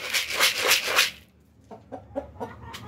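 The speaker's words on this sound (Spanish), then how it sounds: "Ya viene un gallito." Chickens and a rooster on a farm, called over to a feed of concentrate mixed with maize, give a few short separate clucks near the mic after a burst of loud broadband noise at the start.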